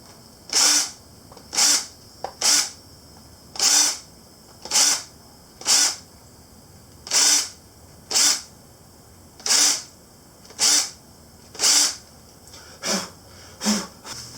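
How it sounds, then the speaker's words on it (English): A drill countersinks screw holes in a handmade skateboard deck, about a dozen short whirring bursts in an uneven rhythm with brief pauses between, close and fairly loud with no talk. "helps get rid of that little bit of tear out too from the top side here, and gives you your good countersink for your screws"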